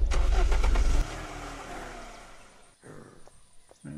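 A car engine starting in the video game Unturned: a loud low burst of ignition and rumble in the first second, then a steadier idling drone that fades and returns with a few sharp clicks.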